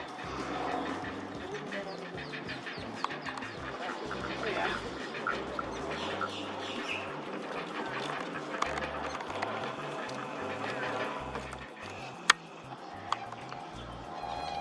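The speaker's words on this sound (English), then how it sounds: "Black-belly whistling ducks." Black-bellied whistling ducks call amid a busy wetland soundscape of many birds, a dense, continuous chorus of chatter and squawks close by.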